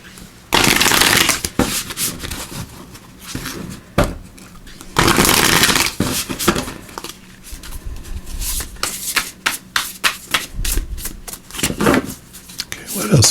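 Shaman's Dream Oracle cards being shuffled by hand in repeated riffling bursts, crisp and close, with pauses between, and a voice talking faintly in places.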